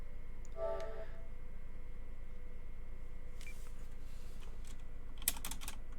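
Someone types on a computer keyboard with scattered light key clicks, building to a quick cluster of taps near the end, over a quiet background hum.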